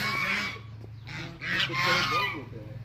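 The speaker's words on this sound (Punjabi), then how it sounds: "ਆ ਬੱਤਕ ਆ ਗਈ ਇੰਡੀਅਨ ਗੋਸ" An Indian goose honks loudly and repeatedly at close range, harsh nasal calls coming in quick bursts over a low steady hum.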